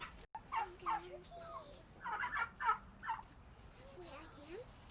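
Several turkeys gobble in short bursts, close by, with a couple of rapid warbling calls overlapping and brief pauses between.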